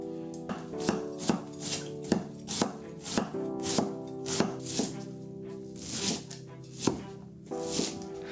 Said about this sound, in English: I'm gonna go ahead and shred a head of cabbage.